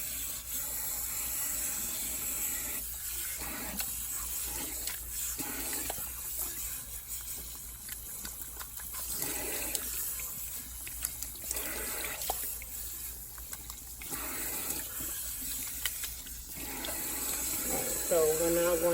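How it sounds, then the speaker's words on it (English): Cold tap water running while hair extensions are rinsed in a sink, a steady splashing flow broken up by irregular gurgles as the hair is moved under the stream, with a voice heard faintly at times. "And I'm still using cold water."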